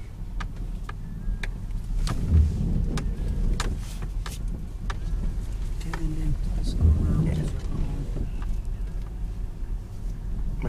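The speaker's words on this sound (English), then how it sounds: "First time driving in the snow." A car drives on snowy roads with a steady low engine and road rumble heard from inside the cabin, along with occasional soft clicks and thumps, while a person talks over the noise.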